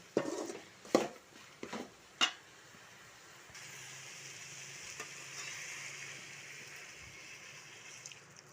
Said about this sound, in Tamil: ஒரு 1/2 டம்ளர் தண்ணி ஊற்றி வைக்கலாம்.